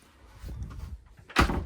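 Interior door of a 2025 Bailey Unicorn Deluxe caravan being moved, soft rustling handling followed by a single firm, close clunk as the door shuts.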